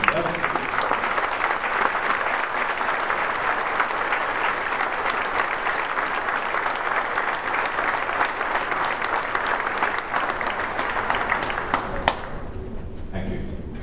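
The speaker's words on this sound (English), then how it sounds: "Ladies and gentlemen, let's have another round of applause for" A large audience at a Hall of Fame induction ceremony claps loudly and steadily. The applause holds for about twelve seconds and then thins out abruptly, with faint talk mixed in.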